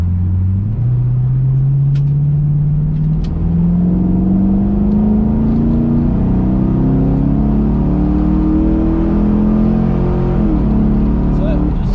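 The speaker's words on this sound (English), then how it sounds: "Lamborghini's going to pass you on your left." Chevrolet Camaro V8 on the Hampton Downs race track as a Lamborghini passes, a loud close engine roar climbing steadily in pitch under acceleration, with a voice talking over it.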